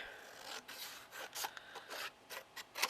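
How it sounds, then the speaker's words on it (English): Scissors cut through paper for a small 3 x 3 picture book craft, making a series of short, close, quiet rasping snips with brief pauses between them. "all I'm going to do now is cut"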